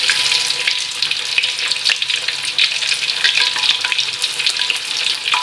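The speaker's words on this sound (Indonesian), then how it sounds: "Okay, so saya akan goreng ni sehingga dia garing ya." Tofu pieces sizzle and crackle loudly in hot oil in a wok or pan, a dense, continuous frying hiss with small pops and occasional stirring scrapes.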